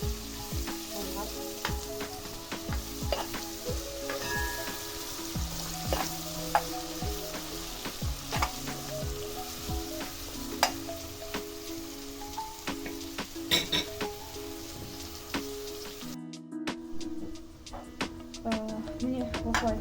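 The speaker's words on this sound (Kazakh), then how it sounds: "Міне осылай жуамызды жақсылап қуырып алдық." Onions fry in oil for lagman, a dense continuous close sizzle with crackles and scraping stirs throughout, briefly dropping off near the end before resuming.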